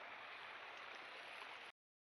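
Water falling steadily from a running motor pump in a farm field, a continuous broadband rush that holds without break, then cuts off abruptly.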